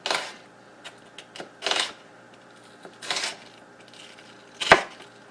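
A knife slicing raw chicken into strips for stuffed chicken burgers, heard as a handful of sharp, separate cutting strokes against a board with quiet gaps between them.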